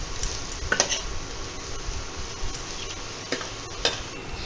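Chopped mushrooms frying with onion and garlic are stirred in a pan, giving a steady soft sizzle with occasional scraping clicks of the utensil, fairly quiet and close, with no talking.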